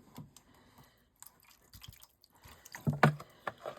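Water is poured from a jug into a craft project, heard as sparse drips and small splashes that build to a short burst of pouring near the end, close and fairly quiet.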